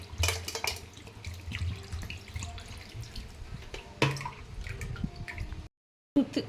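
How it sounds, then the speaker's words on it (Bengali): Tap water runs steadily over freshly made paneer curds being rinsed, with drips, splashing and soft squishing under the flow, a brief silent gap near the end. "ভালো ফ্রেশ জল দিয়ে একটু ভালো করে ধুয়ে নিচ্ছি"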